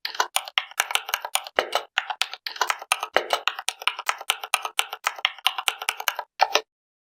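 Typing on a computer keyboard: a steady run of crisp, close key clicks at an even rhythm, heard alone with no talking, stopping abruptly near the end.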